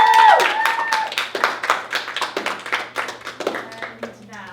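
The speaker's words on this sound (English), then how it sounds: "So give yourselves a round of applause for that." An audience at a fundraising event applauding, a steady burst of many hands clapping at close to moderate distance, with speech near the start that fades into the applause.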